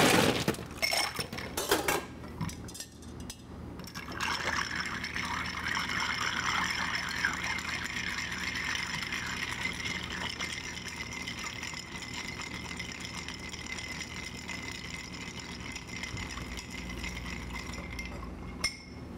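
A cocktail is stirred with ice in a mixing glass: a loud clatter of ice at first, then a continuous soft swirling clink and rattle that runs steadily for a long stretch, close by.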